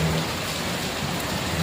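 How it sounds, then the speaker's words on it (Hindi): Rain falls steadily in a continuous soft hiss of drops on surfaces, even and moderately loud throughout with no talk. "बारिश हो रही है और ये देखो कितना प्यारा मौसम हो रहा है।"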